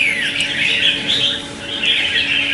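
A caged red-whiskered bulbul calls loudly and close up in a rapid, continuous run of bright chirps and warbles, with a brief lull midway before the calling resumes.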